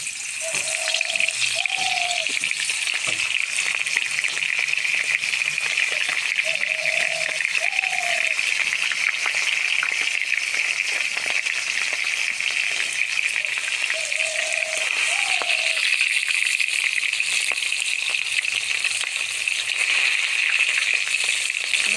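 Fish heads frying in hot oil, a loud continuous close sizzle and crackle that holds steady throughout, with a few faint squeaks or clinks underneath.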